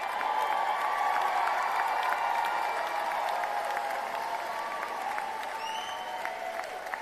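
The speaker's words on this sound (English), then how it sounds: "Give them a round of applause, graduates." Graduation ceremony crowd applauding at a university commencement, a dense, sustained roar of clapping from a large audience heard from a distance, steady throughout with no speech.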